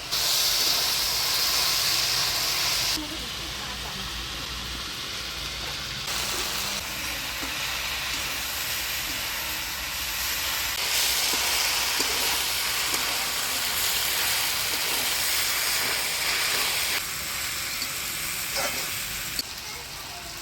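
Vegetables and fried bhola fish sizzle under a lid in a pan, a steady loud hiss that shifts in level as the cover is moved, with soft background noise throughout.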